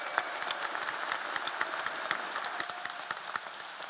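A graduation ceremony audience at a business school claps continuously, a dense mass of hand claps with sharper individual claps standing out, moderately distant in a large hall.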